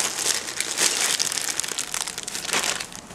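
New car parts, including interior trim pieces, are unwrapped from crinkly plastic packaging, giving close, bursty crumpling and rustling over a few seconds with no speech.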